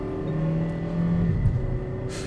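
A Kia Stonic 1.4 MPI gasoline car accelerating, heard from inside as the engine note rises steadily and firmly over about two seconds, with a soft click at the end.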